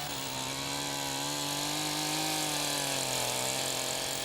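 A chainsaw cuts into a small, slightly leaning tree during a felling plunge cut, its engine holding a steady, loud, continuous whine close by with no break and no talk.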